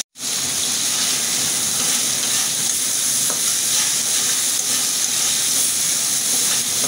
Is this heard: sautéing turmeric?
yes